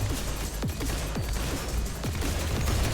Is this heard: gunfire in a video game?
yes